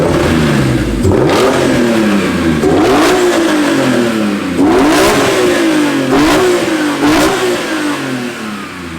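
A BMW E46 M3 engine revs repeatedly in a rhythmic series of sharp blips, each climbing and dropping back, with strong induction roar, loud and close throughout.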